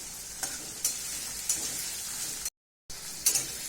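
Onion frying with garlic and ginger in a pan makes a steady sizzle. A stirring utensil scrapes through it in regular strokes, and the sound breaks off for a moment of silence before the stirring resumes.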